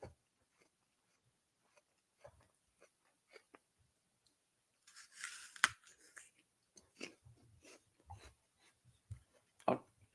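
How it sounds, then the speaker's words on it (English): Someone chews close to the microphone: sparse, soft crunches and clicks break a near-silent background, with a denser run of bites in the middle and a few sharper ones near the end. "I'll try not to have my chewing too close to the mic."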